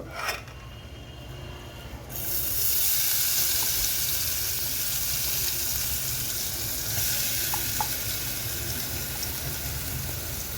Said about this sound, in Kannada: ಈ ಮಸಾಲೆ ಈ ಥರ ಇದರಲ್ಲೇ ಹುರ್ಕೋಬೇಕು ಎಷ್ಟು ಚೆನ್ನಾಗಿ ಪರಿಮಳ ಬರ್ತಾ ಇದೆ ನೋಡಿ ಜೀರಿಗೆ ಕರಿಬೇವು ಕೊತ್ತಂಬರಿ ಇಂಗು